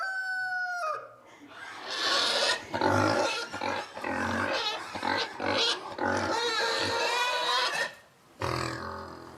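Pigs grunt and squeal continuously in a busy barn shared with cows, with a rooster crowing at the start and other farm animals mixed in.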